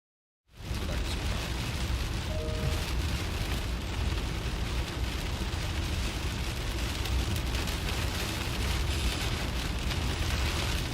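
Steady, dense rain drumming on a car windshield during severe weather, loud and close, a continuous roar with no pauses that runs for the whole stretch.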